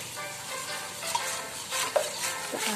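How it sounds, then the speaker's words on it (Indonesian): Garlic powder and water being stirred together as a catfish coating, a wet swishing stir with a couple of sharp clinks of utensil on bowl, close and brief, no talking. "kita aduk."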